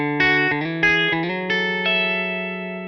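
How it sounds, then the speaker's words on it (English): Clean electric guitar chords ring out one after another, each note sustaining with a wide reverb and echo trailing behind. "It's not getting buried by its own reverb, but it still has this nice atmosphere around it."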